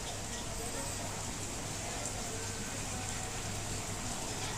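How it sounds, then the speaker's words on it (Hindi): Rain falls outside in worsening weather, a steady, even hiss that is soft and distant and does not change over the few seconds. "मौसम ख़राब हो रहा है बाहर, इसलिए बारिश की आवाज़ आ रही है।"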